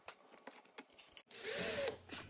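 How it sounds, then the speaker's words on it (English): A power drill bores holes through the plastic body panel of a Can-Am Defender Limited side-by-side to mount a fender flare, preceded by light handling clicks; one loud whining burst of about half a second, close by. "Just drill them out, put the screws in."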